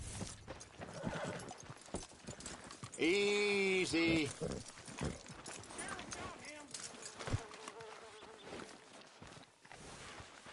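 Horse hooves clip-clop in Red Dead Redemption 2 alongside a brief whinny, faint under game ambience, insect buzz and a spoken line.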